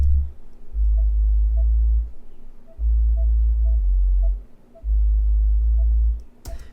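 A synth bass line, a clean mono sine-like bass playing three long sustained notes with short gaps, with faint high blips ticking above it and no talk over it.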